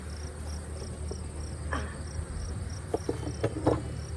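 Agitated honey bees buzz around a hive damaged in a bear attack, a steady high droning hum close by with faint handling clicks and a few soft knocks.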